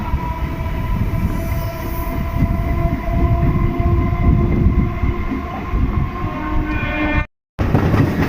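The Digha Express runs past Mecheda station on the Howrah–Panskura line, heard from on board as a loud, continuous rumble and clatter of wheels with a steady tonal hum, briefly cutting out near the end.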